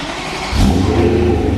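A BMW E92 M3 with a Valvetronic exhaust idles with a low, steady hum, then the engine is revved and the deep rumble swells sharply and holds loud and close.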